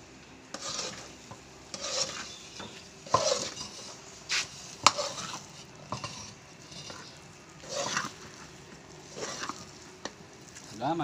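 Sticky rice cake with sugar being stirred and mixed in a pan, giving scraping, shuffling strokes in a repeating rhythm with occasional light clinks, close and moderately loud.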